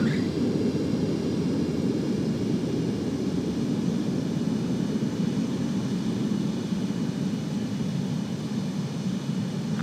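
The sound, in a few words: jet aircraft landing in the video game Ace Combat 7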